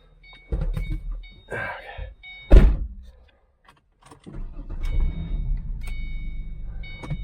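A 2009 Mustang, driven with its sway bar, bushings and end links removed, bangs in the right front suspension. A few sharp knocks and thumps are followed by a steady low rumble of driving noise.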